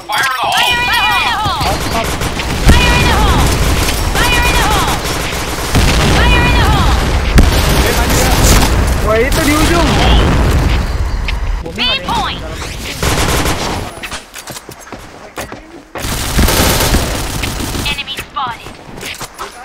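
Loud, dense gunfire and booming grenade blasts from a Point Blank match fill the whole stretch, with rapid bursts and repeated impacts over a constant clatter, while players talk excitedly over the action.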